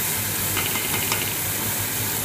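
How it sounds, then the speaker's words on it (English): Onion and pepper sautéing in a pan for menestra, Ecuadorian-style beans, giving a steady close hiss and sizzle throughout with a few faint stirring clicks. "this is going to saute for about 5 minutes all together"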